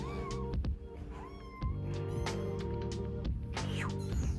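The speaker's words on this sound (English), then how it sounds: "It's a cat." A cat meows repeatedly nearby in a garage where airbags are being fitted, several drawn-out, rising and falling cries over a constant low hum and rumble.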